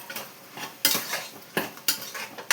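Prawns stirred and frying in a pan, with a soft background sizzle broken by several sharp metal spatula scrapes and clinks against the pan, close and without talk.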